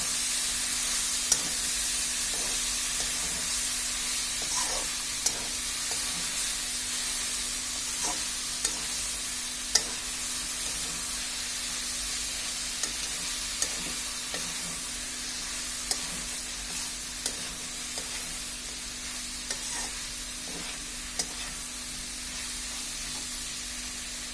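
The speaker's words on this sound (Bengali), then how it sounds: "এখন আমরা এটাকে ভালোভাবে কষিয়ে নেব।" Vegetables for khichuri sauté in a pan with a constant close sizzle and hiss, punctuated every second or two by a light tap or scrape of a stirring spoon.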